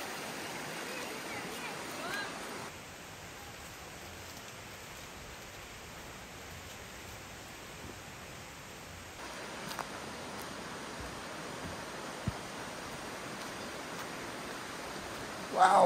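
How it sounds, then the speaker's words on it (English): A flooded river near Vilcabamba, Ecuador rushes steadily, a broad, even roar of water that holds at one level throughout with no one talking. "I don't really want to go swimming to get across the river here, Amelia."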